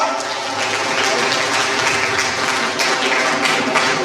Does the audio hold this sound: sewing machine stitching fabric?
no